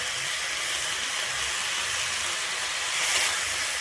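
Fried flat beans hit a pan of khesari greens with a continuous, even sizzling hiss, close and fairly loud, with no voices.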